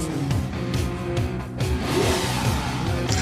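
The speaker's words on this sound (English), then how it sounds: "I think that's a car." Car engine revving at the opening of a 1980s rock song, a loud rising-and-falling rev pass blended with dense band music, with no talk over it.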